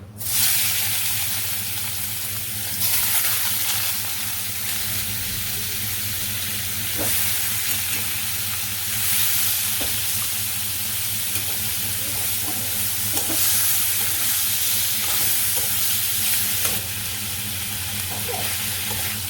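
Eel fish frying in a pan in a village kitchen makes a continuous sizzle over a low steady hum, broken by occasional soft clinks and stirring.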